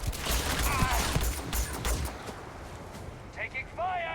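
A quick flurry of gunfire in the Starfield video game rattles close by for a couple of seconds, then fades, followed by a few short electronic chirps near the end.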